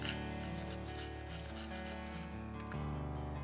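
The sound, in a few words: scrubbing Glock 23 pistol parts clean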